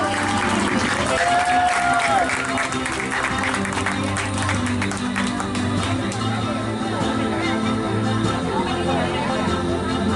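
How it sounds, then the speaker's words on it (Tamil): A crowd claps at the Al Hijra Maha Vidyalaya school building opening and diamond jubilee ceremony in Giri, with continuous applause mixed with crowd noise, music and voices. "உங்களுடைய அன்பு கரகோஷங்களை கொடுத்து உற்சாகப்படுத்துமாறு அன்பாய் கேட்டுக் கொள்கின்றோம்"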